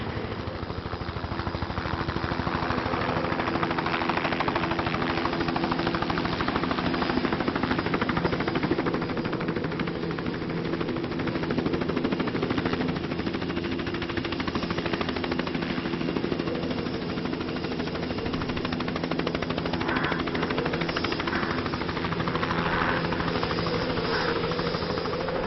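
Helicopter hovering nearby on a film shoot in windy mountain conditions, a loud steady rotor thump and engine drone that stays continuous throughout with no speech over it.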